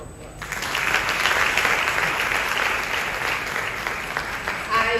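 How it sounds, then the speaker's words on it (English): Sustained audience applause from a women's conference crowd in Accra, a dense wash of many hands clapping steadily and loudly for about five seconds after a short quiet opening, with a faint voice briefly underneath. "I think we should give the visionaries and the masterminds a round of applause."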